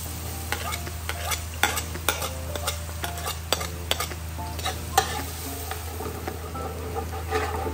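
Garlic sizzling in reused cooking oil for pork igado, a steady frying hiss with scattered sharp crackles and pops and occasional stirring scrapes, close and continuous with no talk.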